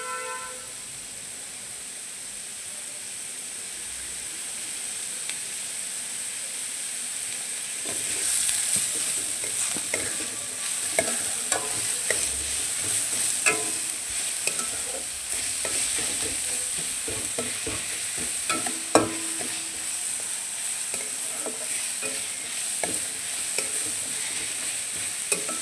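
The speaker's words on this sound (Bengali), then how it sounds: "পেঁয়াজটাও হালকা লাল লাল করে ভেজে নেব।" Onions fry in a pan for an egg chili dish, a steady hiss that grows fuller partway through, punctuated by frequent scraping stirs and small utensil taps.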